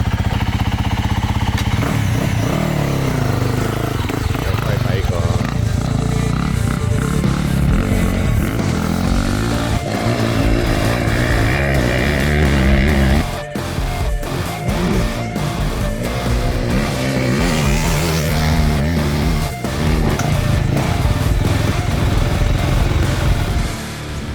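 A racing motorcycle engine fired up for the first time at an FMSCT race, running loud and close with continuous rough revving, throttle blips and clattering idle throughout.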